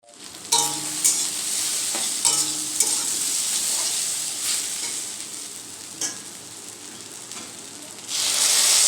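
Ground spice paste with taro stolons and potatoes sautés in a pan in a home kitchen: a loud, even sizzle over nine seconds, punctuated by a few spatula knocks and scrapes, swelling brighter near the end.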